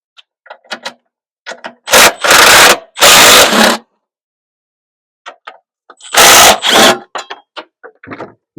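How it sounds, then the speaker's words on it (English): A power tool spins out 3/8 bolts on a snowblower set on a trailer. It sounds as three short, loud, harsh bursts, two close together and one after a pause, with small clicks and rattles of handling in between. "let's zip out all these bolts here. It is 3/8, and there are 6 bolts we got to take out."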